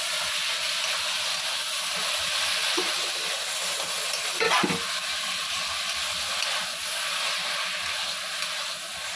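Pumpkin and prawn ghonto, a Bengali dish, sizzles steadily in a pan while being stirred, with a soft continuous frying hiss and a brief clatter of the spoon midway.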